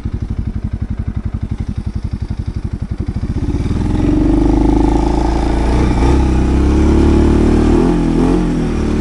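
A Segway Snarler AT6L ATV with a Stage 2 tuned CVT idles with a rapid, steady chugging pulse, then revs up into a loud, sustained roar that holds with slight wavering.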